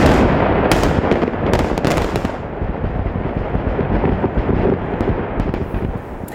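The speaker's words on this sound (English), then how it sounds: "The explosions taking place just hours before President Trump abruptly canceled his meeting with Kim Jong Un." Explosions at North Korea's nuclear test site during its dismantling, a sustained roar of overlapping blasts and rumbling debris, loud and continuous with sharp cracks at the start.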